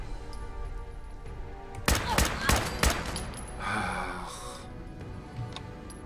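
Gunfire in the Fallout 4 video game during a fight with raiders in Dunwich Borers: a quick burst of four sharp shots, followed by a softer rushing noise over faint background game audio.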